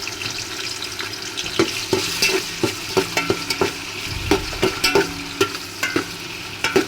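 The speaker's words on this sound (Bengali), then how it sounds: "তেলটা গরম হলেই দিয়ে দিব পরিমাণ মতো পেঁয়াজ, আর দিয়ে দেবো টমেটো" Onions and tomatoes frying in hot oil, a moderate sizzle under repeated clicks and scrapes of stirring that come in an irregular rhythm, close by, no talk.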